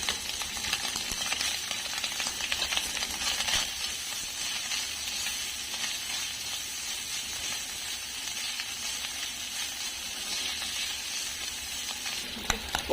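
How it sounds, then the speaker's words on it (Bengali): Pre-boiled, cut meat sizzles steadily in a little hot oil, a dense continuous frying hiss with faint stirring clinks, close and unbroken for the whole stretch, with no voices. "প্রথম মাংসটাকে ভেজে নেব।"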